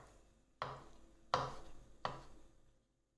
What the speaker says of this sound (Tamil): இளம் நொங்காக பார்த்து அந்த மேத்தோலை எடுத்துகிட்டு இது மாதிரி பொடியாக நறுக்கி எடுத்து வச்சுக்கலாம்